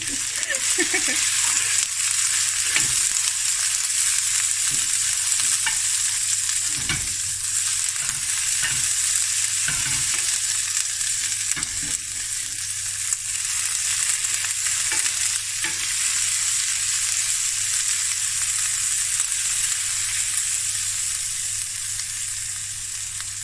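Sliced onions fry in a pan for sausage fried rice, giving a steady, even sizzle from start to finish, with a few soft knocks of stirring and no talk.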